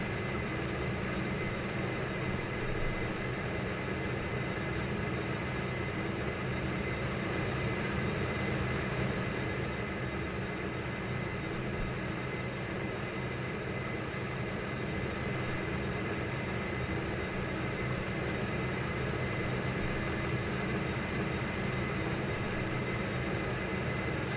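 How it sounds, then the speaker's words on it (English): A Majestic Q400 turboprop engine starts up in the FSX flight simulator, a steady, loud droning whine and rumble holding constant throughout without pauses or speech. "Pushing back now, you're clear to start the engine number 2."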